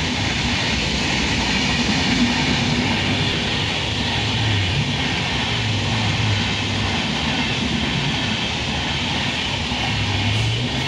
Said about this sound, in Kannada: ಮತ್ತೆ ಇನ್ನೊಂದು ಟ್ರೈನ್ ಆ ಕಡೆಯಿಂದ ಬರ್ತೈತೆ.